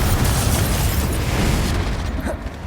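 A loud explosive spell blast in Hogwarts Legacy, a heavy booming burst that fills the moment and then rumbles and fades, close and alone without talk.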